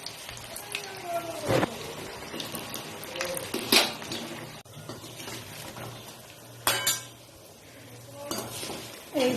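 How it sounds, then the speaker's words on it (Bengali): Biulir dal (lentil) fritters turned over in a frying pan, with a steady background hiss and several sharp clinks and scrapes of a utensil against the pan; a voice is heard faintly at times. "উল্টে পাল্টে বড়াগুলোকে সুন্দর করে ভেজে নিচ্ছি"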